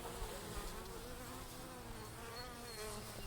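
Honeybees buzz at an open hive in a steady, quiet, continuous hum that holds evenly throughout, with no voices.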